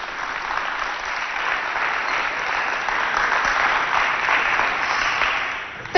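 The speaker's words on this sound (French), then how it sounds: "On applaudit très très fort pour nos amis." A studio audience at a televised Chadian contest between two youth centres applauds warmly for several seconds, a dense, even wash of many hands clapping at steady loudness throughout.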